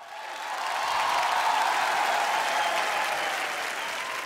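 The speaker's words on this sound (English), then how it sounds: "A round of applause for Navid Jaffrey." An audience at a stage event breaks into sustained, even applause that swells within the first second and holds at a steady, dense level for about four seconds, with no talking over it.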